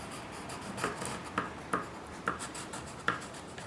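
A felt pen or marker colouring in areas of a drawing of a school playground, giving soft, quiet rubbing strokes with a few sharper scratchy swipes in an irregular rhythm, close up and alone.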